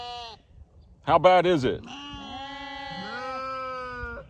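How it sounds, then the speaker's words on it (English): Sheep bleat in a burst of loud, wavering calls, followed by drawn-out bleats, with a person speaking over part of it. "Okay, the sheep are telling me something."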